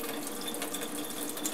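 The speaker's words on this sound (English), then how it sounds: "how much water is just going to flow right out of this block" Steady running water flowing out of a porous rock block, with a soft hiss and faint trickling, continuous and close, without any voices.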